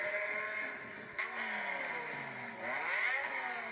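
BMW M5 engine revving up and down, with rising and falling pitch sweeps and a brief break near the middle like a gear shift, loud and close with no talk.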